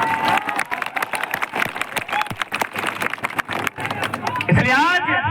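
A large crowd at an outdoor political rally in 45-degree heat cheers and applauds, a dense continuous roar of clapping and voices that stays loud throughout, with a voice rising briefly near the end.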